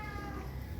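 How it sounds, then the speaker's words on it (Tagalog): A Persian tomcat, apparently seeking a mate, lets out one short, loud, drawn meow close by with no other sound around it. "Ba't nag-iingay yung pusa ng ganyan"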